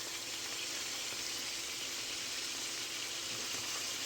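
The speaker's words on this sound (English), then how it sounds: "we're trying to sear these things, not cook them fully through" Salisbury steak and meatballs sear in butter in a sauté pan, giving a steady, dense sizzle that hisses evenly and close up throughout with no talking.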